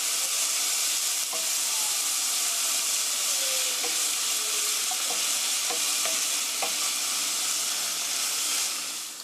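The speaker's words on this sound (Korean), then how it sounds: "5분간 볶아주세요." Bacon and spaghetti ingredients stir-fry in a pan for a spicy spaghetti cooked while camping. A steady, loud sizzle and hiss runs throughout, with occasional scraping stir strokes and no talk.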